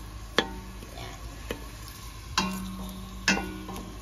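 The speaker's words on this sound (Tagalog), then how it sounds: "Gisa-gisa natin." Onions and garlic sauté in hot oil in a pan, a soft steady sizzle broken by several sharp knocks of a spatula or spoon stirring against the pan, close and without speech.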